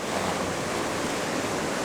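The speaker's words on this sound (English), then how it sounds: "We have the waves crashing against the cliff face." Ocean waves crash against a cliff face at Cape Disappointment, a steady, loud, unbroken roar of surf with no voices.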